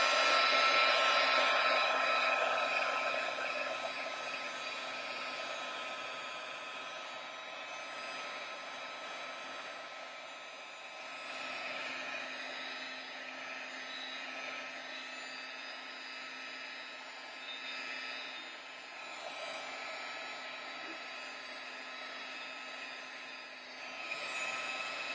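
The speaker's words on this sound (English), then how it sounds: "So I'm going to give that a quick blast with the heat gun." A heat gun blows hot air steadily to dry paint on a rust, patina and moss effect bird cage, a loud continuous whooshing hiss that dips slightly midway and holds for the whole stretch with no talking.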